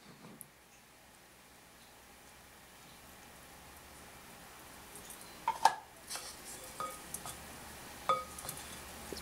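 Thai spicy pork and rice ball salad tossed in a bowl with fish sauce and lime juice, heard as faint, intermittent clinks and scrapes of a utensil against the dish, with scattered soft knocks.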